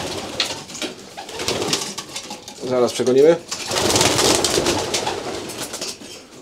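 Pigeons coo nearby in a loft in soft, rolling bursts, mixed with wing flutters and rustling, while a person talks briefly in Polish over them.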